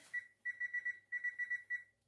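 Kitchen timer set while a chicken Alfredo pizza bakes, sounding a bright, steady electronic beep in rapid repeated bursts of about four or five beeps each, close and clear, with no voices.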